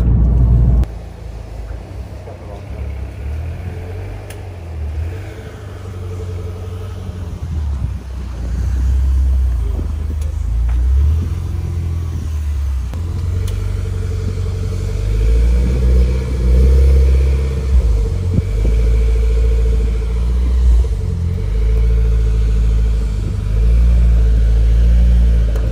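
A Mitsubishi Evo X SST strapped to a dyno, its engine rumbling loud and steady with a deep low drone that swells into a stronger, sustained run in the second half, with no talking.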